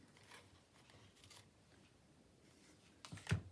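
Paper being trimmed with scissors for a junk journal pocket: faint, soft snips across the clip, with one sharper, louder cut near the end.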